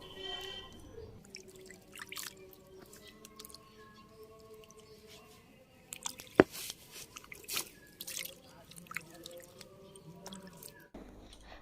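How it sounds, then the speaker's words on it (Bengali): Deseeded papaya pieces being rinsed in water by hand in a village kitchen, with soft wet sloshing, drips and squishing throughout and a brief sharper clatter midway, fairly quiet and close. "বিচিগুলো বের করে নেওয়ার পর আমি পরিষ্কার করে ধুয়ে নিচ্ছি।"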